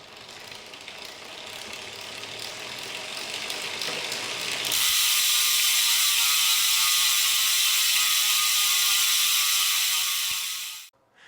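The rear freewheel hub of a Canyon CF SLX road bike with SRAM Force AXS components buzzes as the wheel spins, a rapid ratcheting whir that swells louder partway through and then stops abruptly.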